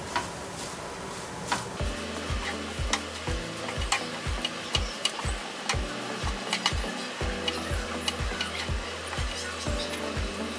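Grated coconut roasts on low flame in a pan for a Kerala varutharacha chicken curry, a spoon scraping and stirring in a steady rhythm of distinct strokes over a faint dry sizzle, close and clear.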